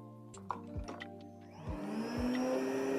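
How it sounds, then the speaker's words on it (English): A Makita hybrid vacuum cleaner powers on with a few clicks, then its motor whines up and settles into a steady, quiet hum close by. "This is what we call a hybrid vacuum."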